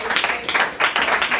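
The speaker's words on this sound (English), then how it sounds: "Round of applause for both our students." An audience at a Left Forum panel on labor gives a round of applause for two students, many hands clapping in a full, steady burst that swells and dips in waves.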